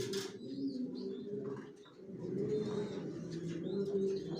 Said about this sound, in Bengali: সব লং এর কবুতর পালি আমার লফটে, জনসন লাইনের।